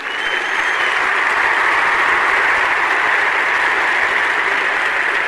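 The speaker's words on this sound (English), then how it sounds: "we're going to give my guests a special round of applause." A studio audience applauds in a sustained, even burst of clapping that swells in quickly and holds at full strength throughout.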